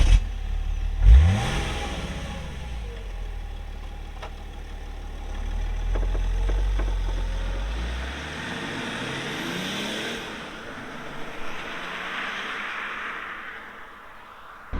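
BMW E46 330d diesel engine under load while driving with the windows open, a deep low rumble swelling and revving in the first half, then settling into steadier road and wind noise.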